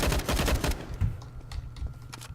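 Rapid automatic gunfire from Counter-Strike: Global Offensive on a custom wine cellar map, a dense burst of loud shots followed by scattered single shots and fading echoes.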